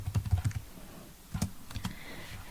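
Someone types on a computer keyboard while entering an SQL Server query, making a close burst of rapid clicks, a short pause, then a few more keystrokes.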